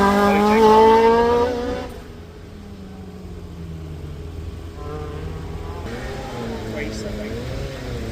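A little Peugeot saloon race car of about 200 bhp, in a very light fresh build, climbs a hillclimb course; its engine note rises and falls from fairly near with a tyre squeal, while a commentator talks over it throughout.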